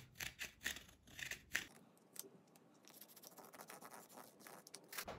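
Scissors snipping carefully through material for a homemade flashlight, a run of close, crisp cuts at the start, then softer scratchy handling sounds.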